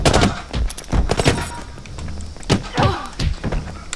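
Gunfire in the video game Alias, a burst of loud, sharp shots and thuds at the start, then scattered heavier bangs and impacts over a few seconds.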